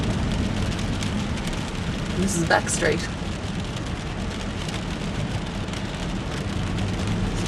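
Steady rain hisses on a Dubai back street in the early morning, a dense, even wash of drops with a passing vehicle rumbling low beneath it, while someone speaks briefly.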